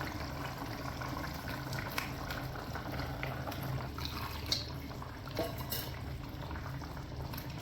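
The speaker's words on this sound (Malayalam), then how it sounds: "മീൻ തിളച്ച് നല്ല സെറ്റായി വന്നിട്ടുണ്ട്." Sardine curry simmering in a pot for a Kerala coconut fish curry, giving a steady, close bubbling and hissing boil throughout with a few small clinks, no voices.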